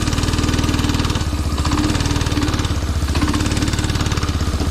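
Small go-kart engine running steadily close by, a loud buzzing drone with a rapid pulsing rhythm and slight wavering in pitch throughout.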